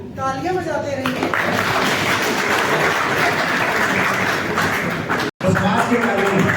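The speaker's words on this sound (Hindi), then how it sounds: "तालियां बजाते रहिए।" Audience applause at a public gathering honouring a Gurjar royal and former minister in Uttarakhand, dense and steady throughout with a shouting voice over it, briefly cutting out near the end before resuming.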